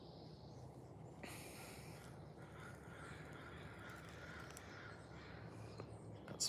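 Ravens call in a rainforest, a couple of hoarse caws over a steady broadband hiss of forest ambience, moderately distant and alone without speech.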